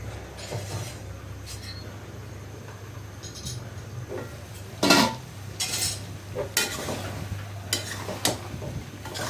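A lid goes onto a metal pot of taro and shrimp curry with one sharp clank, followed by a few lighter clinks and scrapes over a low, steady kitchen hum. No one speaks.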